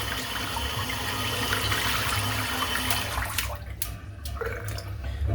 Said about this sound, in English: Just rinsing the brush out now.